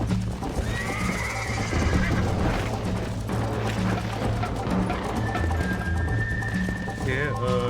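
A horse in Red Dead Redemption gives a loud whinny and gallops with rapid hoofbeats. A second high neigh comes near the end, with voices and game noise mixed in.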